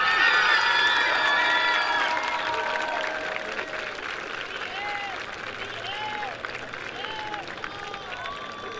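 Sustained applause from a large crowd at a high school homecoming football game, steady and fairly loud throughout, with scattered cheers and whoops rising over the clapping.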